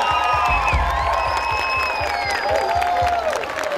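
An audience applauds and cheers in Capela do Alto, clapping spread through the crowd with a few whoops, and a voice speaks briefly over the noise.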